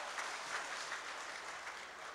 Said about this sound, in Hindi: जोरदार तालियां हाशिम के लिए बजानी चाहिए